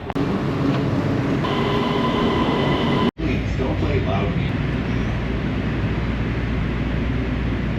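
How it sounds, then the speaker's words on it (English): Los Angeles subway train heading toward Santa Monica, a loud steady rumble and roar of the moving car with a brief dropout partway through and faint tonal whine, continuous throughout. "Today we're back on the subway, heading down to Santa Monica Pier and Venice Beach today."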